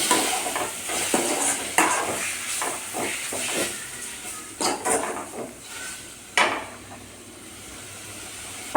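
Tomatoes sautéing in a hot pan, stirred with a spoon so that repeated scraping strokes cut across a soft sizzle and hiss, loud and near, then settling into a quieter frying hiss toward the end.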